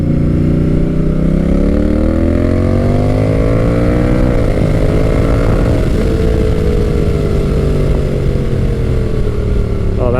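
A Honda Rebel 1100 T DCT motorcycle downshifts hard into a corner, its loud close engine note sweeping upward as the revs climb, then shifting and easing off through the bend, continuous throughout.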